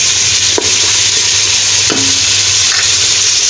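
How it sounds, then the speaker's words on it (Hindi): Tomatoes and masala frying in a pan for dhaba-style bhindi gosht, a steady loud sizzle that runs without a break, with a couple of brief stirring scrapes and no voices. "और इसको अच्छी तरह से भून लेंगे, इसका मसाला अच्छे से भून जाए।"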